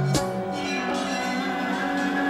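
Temple bells ringing in Varanasi, India, as Hindu worshippers enter to pray: a struck bell near the start leaves a long shimmering ring that stays steady for the rest of the clip.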